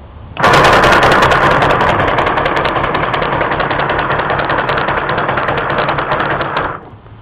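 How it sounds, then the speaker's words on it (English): Homemade wooden double coil gap motor starts abruptly and runs with a loud, steady rapid buzzing chatter for about six seconds, then cuts off. "I'm going to try to hold this and push this in so I can get this motor started to show you what happens here"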